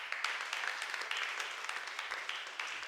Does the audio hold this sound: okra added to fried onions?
no